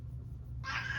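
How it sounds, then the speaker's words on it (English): A cat cries outside in a single short meow that starts abruptly and sits faint against a low background hum. "you might hear my cat crying outside"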